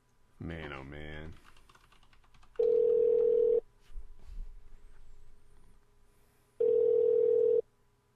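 A telephone call rings out unanswered, with two long, steady ringback tones separated by a few seconds of quiet room noise and a short voice at the start.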